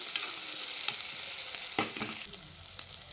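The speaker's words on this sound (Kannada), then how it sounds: "ನೆಕ್ಸ್ಟು ಪುದೀನ ಹಾಕ್ಕೊಳ್ತಾ ಇದ್ದೀನಿ ಪುದೀನ ಕೂಡ ಅದೊಂದು ಸ್ವಲ್ಪ ಸಾಫ್ಟಾಗಿ ಬಾಡಿಸ್ಕೊಬೇಕಾಗತ್ತೆ ಈ ರೀತಿಯಾಗಿ ಒಂದೆರಡು ಸಲ ಮಿಕ್ಸ್ ಕೊಟ್ಟರೆ ಅದು ಬಾಡುತ್ತೆ ಬೇಗನೆ" Mint leaves are stirred as they fry in a pan for chicken keema gojju, giving a soft, steady sizzle broken by several light scraping and clicking strokes of the spoon, close and fairly quiet, with no talking.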